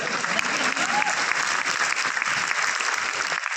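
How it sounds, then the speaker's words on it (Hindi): Steady, dense applause from a large audience at a launch event in a five-star hotel in Delhi, filling the room evenly and continuously without a break. "ताली बजाने का दिल करो तो बजा लिया"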